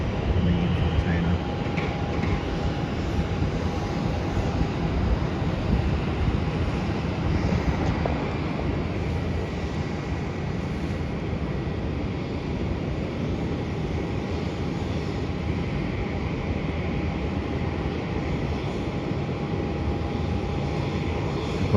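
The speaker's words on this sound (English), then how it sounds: "there's an Airbus A380 coming in from China" An Airbus A380 arriving from Guangzhou lands at Melbourne airport, heard as a steady, moderately distant jet engine roar with a faint tonal whine throughout, with talking over it.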